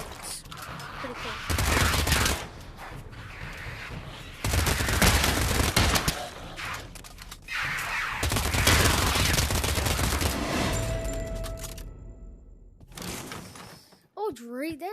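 A minigun in the virtual reality game Pavlov fires in long, dense bursts of rapid shots separated by pauses, loud and close, with a voice talking between the bursts.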